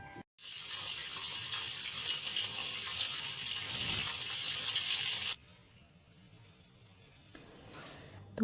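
Water runs steadily into a washing machine as clothes are washed, a loud continuous rushing stream that cuts off abruptly and leaves a quieter, softer flow behind.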